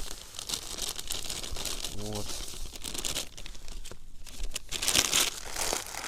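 A nearly empty plastic packet of feeder groundbait is shaken out outdoors at a fishing spot, with continuous crinkling and rustling of the plastic while someone talks briefly over it.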